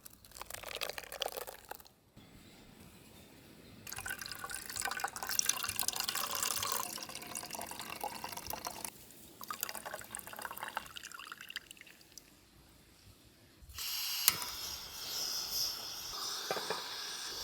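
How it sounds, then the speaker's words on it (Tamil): Coconut milk drips and trickles in bursts as it is squeezed through cloth, wet splattering sounds close by, with quieter pauses between squeezes. "இது அப்படியே இந்த துணியில் போட்டு வடிகட்டிக்கலாம்."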